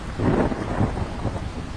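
Heavy cartoon rain pours over a deep rolling rumble of thunder, loud and close, swelling early then settling into a steady wash of rainfall with no speech.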